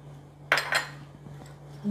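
Metal spoon clinks twice against a pot while cauliflower florets are mixed with red chili powder and salt, followed by soft scraping stirs, close by over a low steady hum.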